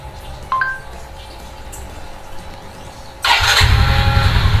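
A motorcycle engine, started remotely by an Android phone through an Arduino, turns over and catches, jumping into a loud, steady idle close by after a few quieter seconds.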